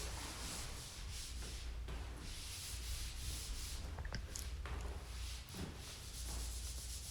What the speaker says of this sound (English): sanding off the debris of it, the little bumps on the drywall that I skim coat.